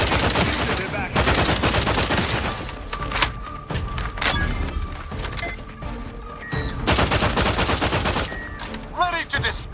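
Rapid, heavy gunfire from a nasty weapon in The Outer Worlds 2, loud bursts of automatic shots with brief gaps, close and dense, mixed with game impact and debris sounds.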